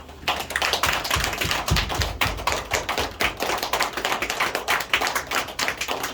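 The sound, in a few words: church congregation applause for the pastor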